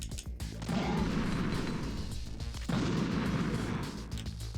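A stun grenade detonates in Metal Gear Solid: The Twin Snakes, giving two heavy crashing blasts with long rumbling, ringing tails, loud and close, the second about two seconds after the first.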